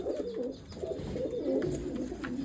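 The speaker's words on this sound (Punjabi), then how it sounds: "ਬੱਗਾ ਕਬੂਤਰ" A white pigeon coos softly and repeatedly at close range, a low rolling warble with faint background noise.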